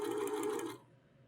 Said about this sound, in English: we will pin it, and then we will continue sewing this flat